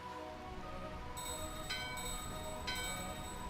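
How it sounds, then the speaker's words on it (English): A bell chimes in the Final Fantasy 9 video game, with a few bright metallic strikes ringing over a steady, rain-like background hiss of game ambience, and no speech. "let's ring the bell"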